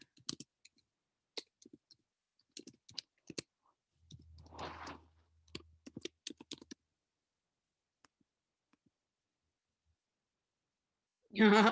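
Typing on a computer keyboard: quick irregular clusters of light key clicks with brief pauses, a soft breathy noise partway through, and a louder burst at the very end.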